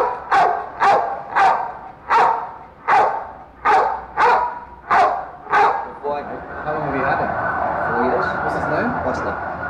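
A dog barks about nine times in a steady, evenly spaced series, loud and close. After the barking stops, a rougher, noisier stretch follows.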